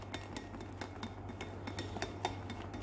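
Sponge cake batter whisked by hand in a bowl as oil is added bit by bit, a quiet, quick series of rhythmic taps and clinks from the whisk against the bowl, close and faint.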